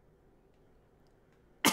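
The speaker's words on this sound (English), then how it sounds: "I just coughed." A single short cough bursts out abruptly at the very end, loud and close against a quiet low hum.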